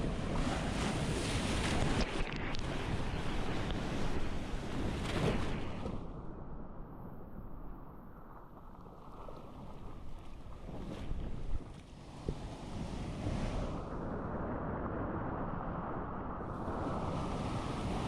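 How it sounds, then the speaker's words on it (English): Strong Atlantic Ocean surf rolls and crashes continuously onto the beach at Playa del Condado, Puerto Rico, with heavy wind buffeting the microphone throughout. "Oh my god, the waves are so strong."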